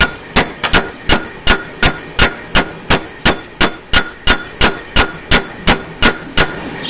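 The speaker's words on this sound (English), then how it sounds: "you're going to hammer the heck out of it" Steady, evenly spaced hammer strikes on a copper bangle ring out close and loud, about two per second, each blow sharp with a short metallic decay.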